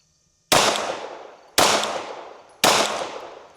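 Three Glock pistol shots are fired at a target at a range, spaced about a second apart. Each report is sharp, loud and close, with a decaying echo tail.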